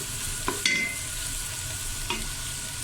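Ginger and garlic fry gently in a pan for beef haleem, a soft steady sizzle close by with a couple of brief spoon clinks against the metal.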